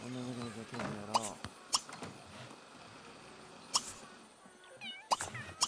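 A kitten in The Sims video game gives a few high, rising and falling mewing calls, mixed with short clicks and pops, heard faintly alongside talking.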